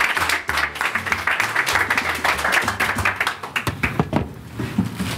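A small group claps at an office gathering, the individual hand claps distinct and uneven rather than a dense roar, fairly close and continuing steadily before thinning out.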